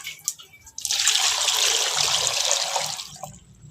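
Water pours steadily for a few seconds, a bright rushing splash that starts abruptly and tapers off, close by with no talking.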